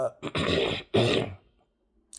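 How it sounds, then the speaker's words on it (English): Two rough, raspy throat-clearing bursts close to the mic, one right after the other, then quiet. "I'm just clearing my throat."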